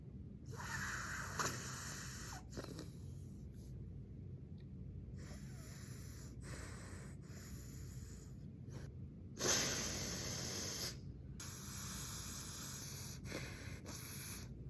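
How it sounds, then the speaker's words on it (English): A person with a deviated septum breathes through the nose before septoplasty surgery, making slow, close, hissing breaths in and out with pauses between them, one of them sharper and louder. No one speaks. "I recorded myself breathing right before my surgery."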